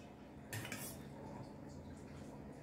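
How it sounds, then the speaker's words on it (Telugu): Spoon clinks against a dish while curd is added to rice, a short cluster of bright close clinks followed by soft scraping under a low steady background hum. "ఒక స్పూన్ పెరుగుని ఇందులో వేసేస్తున్నాను."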